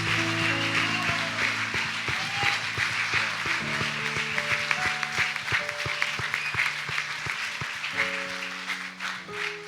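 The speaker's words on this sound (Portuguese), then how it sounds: "Então vamos aplaudir o Senhor Jesus por isso." Church congregation applauding at a Sunday morning anniversary service, a dense, steady wash of clapping that fills the room, with sustained organ or keyboard chords playing underneath throughout.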